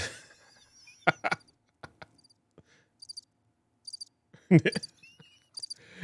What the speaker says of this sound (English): where is my cricket sound?